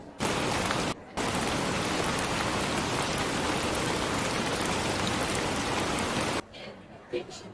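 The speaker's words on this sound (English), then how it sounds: "Ooh, a little rain." Steady light rain falls close by, a dense even hiss that fills most of the stretch before abruptly thinning to a quieter patter with a few scattered drips near the end.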